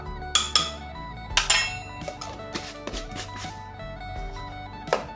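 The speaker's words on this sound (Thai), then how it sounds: "ผมเริ่ม ใส่ เครื่องปรุงรสเลยจะได้โขลกไปพร้อมกัน" Pestle pounding long bean som tam in a mortar while seasoning is added: a quick series of clinking, knocking wooden and clay thuds mixed with spoon clinks, close and moderately loud, with no talking.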